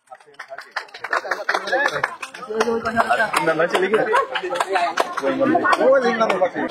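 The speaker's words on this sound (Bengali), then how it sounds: "সবাই তাদের জন্য একটা করে করা হাতে তালি সবাই" A village game crowd claps in dense, uneven bursts of hand slaps, mixed with chuckles and lively chatter. The applause keeps building and grows louder toward the end.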